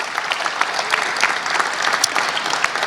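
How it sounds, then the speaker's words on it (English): A crowd at Footprint Center in Arizona claps steadily with dense, sustained applause, many hands at once from a moderate distance, with no break. "Please give them a nice round of applause."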